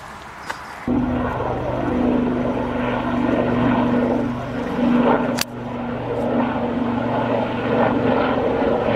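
Steady droning rotor and engine hum of a military helicopter overhead, loud and continuous with a low tonal drone throughout.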